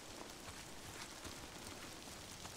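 Rain falls steadily in the Days Gone video game, a soft even patter of drops on surfaces throughout, fairly faint with no voices.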